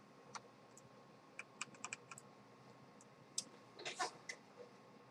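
Computer keyboard keys are pressed in sparse, quiet clicks, with a brief quick burst of several taps near the end, in a quiet room with no talk.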